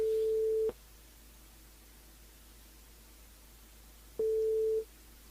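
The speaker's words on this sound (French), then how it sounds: "On appelle Damien" A telephone line rings out while calling a radio contestant: two steady electronic tones, each lasting about half a second and separated by several seconds of quiet line hiss, heard alone without talk.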